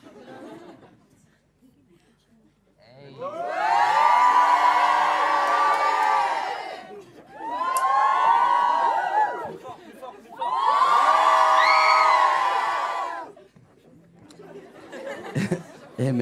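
A live audience at a Columbine interview session shouts and cheers in three long loud bursts of crowd noise with whoops, separated by brief lulls and quieter murmuring at the start and end.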